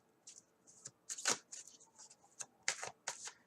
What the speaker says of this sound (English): Just shuffling the deck before I put it down.